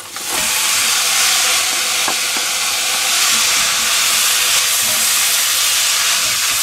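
Wild boar bones, oven-roasted beforehand, go into a pan of browned vegetables and sizzle loudly and steadily with a broad, constant hiss throughout.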